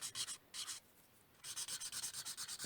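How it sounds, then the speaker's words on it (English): Marker pens scratch across an art journal page in short rubbing strokes: two quick bursts, a pause, then a steady run of rhythmic back-and-forth strokes, close and fairly quiet with no talking. "I'm going to start going in with some of my marker pens now."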